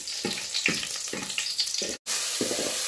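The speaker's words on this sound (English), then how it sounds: "So in our saucepan, I'll put cooking oil and onions." Onions frying in cooking oil in a saucepan outdoors, a steady close sizzle broken by a series of rhythmic knocks and scrapes, with a brief dropout near the end.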